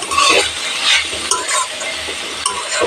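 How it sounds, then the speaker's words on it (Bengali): Fenugreek leaves and potatoes are stirred in a pan over low heat for Punjabi aloo methi, with a steady sizzle and repeated scraping strokes from utensils close by. "মেথি শাক তিন চার মিনিটের মধ্যে নেড়ে দিলাম"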